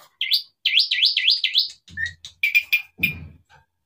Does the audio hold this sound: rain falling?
no